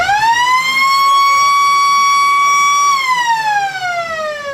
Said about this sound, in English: As we get the world's loudest siren